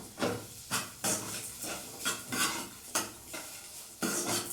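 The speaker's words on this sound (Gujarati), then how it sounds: "ડુંગળી છે જે ગોલ્ડન બ્રાઉન થાય ત્યાં સુધી આપણે સાંતળવાની છે" Chopped onions and green chillies sauté in a pan for rava appam, a soft sizzle broken by repeated scraping strokes of a spoon against the metal, roughly one every half second, close up.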